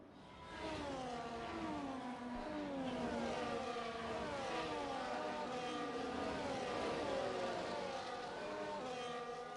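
Sim-racing race cars run at reduced pace behind the safety car at Abu Dhabi, several engine notes droning and rising and falling together in a steady, moderately distant pack, with no talk over them.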